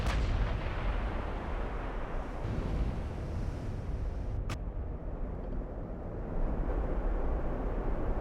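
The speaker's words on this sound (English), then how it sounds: "Just waiting on the salvos to come in" Heavy naval gun salvos in the warship game Ultimate Admiral: Dreadnoughts, a dense continuous rumble of distant artillery with one sharp crack midway and booming swells near the end.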